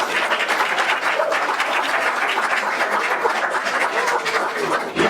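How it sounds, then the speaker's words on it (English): A graduation crowd gives a sustained round of applause, dense and even clapping filling the room for several seconds at steady loudness. "Ladies and gentlemen, a round of applause."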